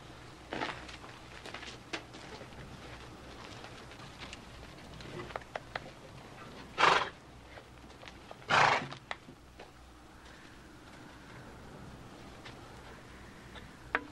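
Quiet outdoor scene with scattered hoof clops and soft ticking, broken by two brief, louder horse whinnies or snorts in the middle; the horse needs reshoeing.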